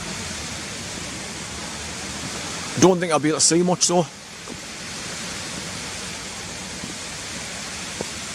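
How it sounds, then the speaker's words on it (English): A constant rush of water channelled under a road and dropping down fills the background, with a brief spoken phrase briefly rising over it. "this is where the water channels underneath the road here and drops down there, as you can hear"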